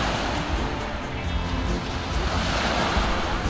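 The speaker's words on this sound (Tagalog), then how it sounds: "Tapos ito na yung dagat." Steady roar of sea waves breaking on a beach resort shore in Batangas, a continuous loud wash of surf mixed with wind buffeting the microphone, no talk.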